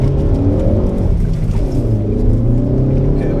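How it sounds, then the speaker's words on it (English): A 2015 Ford Focus ST with the ST2 package growls under load while driving in heavy rain, its engine tone droning low and loud and shifting pitch slightly as it pulls in gear. "The engine growl is like one of its best aspects"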